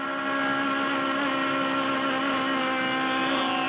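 An Aussie Racing Cars race car engine on track at Adelaide holds a steady, high-revving drone for a few seconds, loud and continuous, with no talk over it.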